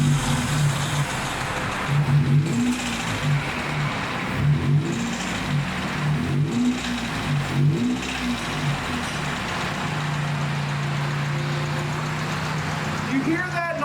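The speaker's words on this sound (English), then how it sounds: "You hear that noise? The noise that sounds like a blow-off valve. Guess what? I don't have a turbo. I have a broken engine." A 2005 Toyota Corolla with a broken engine, damaged from running overdue on an oil change, revving in uneven bursts. It gives a whooshing, blow-off-valve-like noise despite having no turbo, then settles into a steady drone near the end.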